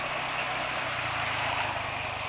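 A motorcycle engine running on Pertamina engine oil after about 16 km of use holds a steady, close, even idle drone with no break, heard alone.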